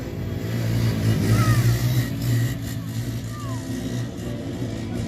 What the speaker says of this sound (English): First straight, going to drop it into a wheelie.